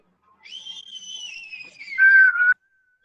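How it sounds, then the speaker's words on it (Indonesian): A single person whistles one clear, close melodic phrase of about two seconds that slides downward and ends on a louder held note, with no other sound around it. "Bersiul aja Kak."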